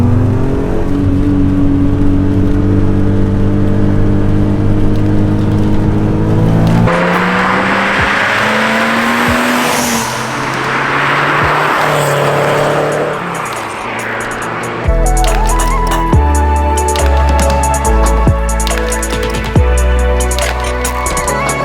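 A BMW M3 engine revs hard, rising and falling in pitch with strong harmonics and a tire-squeal-like whine midway, loud and close throughout with no talking.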